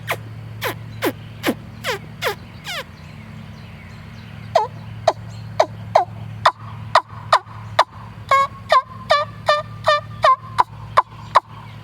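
Homemade wing bone turkey call producing a series of sharp, loud clucks and yelps, a few spaced calls at first, then a faster, rhythmic run of notes, close and alone.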